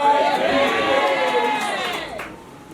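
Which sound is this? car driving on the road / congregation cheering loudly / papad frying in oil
congregation cheering loudly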